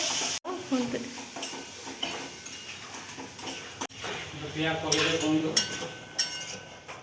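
Chicken cooking in a pan in a home kitchen, with sizzling and a utensil stirring and scraping against the pan, several sharp clinks, while people talk nearby.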